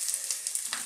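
Ginger hitting hot oil in a heated pan gives a steady, close sizzling hiss with small crackling pops, no voices over it.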